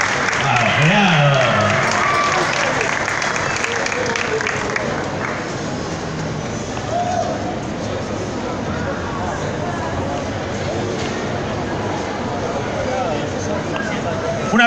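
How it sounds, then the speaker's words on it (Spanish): Sustained applause from a large audience as a performer takes the stage at a book presentation and live show, loud and continuous, with cheering voices and crowd chatter mixed in throughout. "Un aplauso más grande para Gerardo, por favor."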